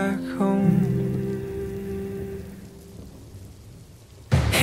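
A rolling thunderclap fades out over steady rainfall, then a sudden sharp burst of rain or a nearer crack near the end, with the tail of a song's sustained tones fading at the start.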